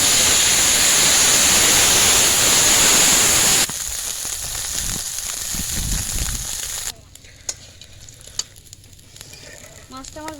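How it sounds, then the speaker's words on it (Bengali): Lata (snakehead) field fish frying in hot oil, sizzling loudly and steadily at first, then a softer crackle, then sparse quiet pops and spits near the end, with no talking. "আরও কিছুটা মাছ আছে সেটা আমি ভেজে নেব"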